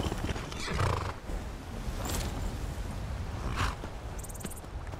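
A horse in the game Skyrim neighs and whinnies amid a busy rustle of hooves and movement, loud and close, with a sharper high cry late in the moment.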